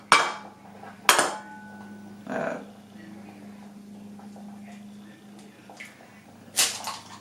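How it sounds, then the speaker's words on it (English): An egg is cracked against a hard kitchen surface while preparing breading for a spicy chicken sandwich: a few sharp, close taps and knocks spaced apart, with quiet handling noises between them. "What you have to do first is crack the egg very gently."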